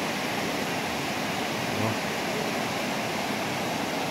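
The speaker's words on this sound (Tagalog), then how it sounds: "andito kami ngayon sa malaking ilog. Ang lakas ng ragasa niya" A large river with a strong current in Camarines Sur, Bicol, rushing steadily as a loud, unbroken broadband roar of flowing water with no talk over it.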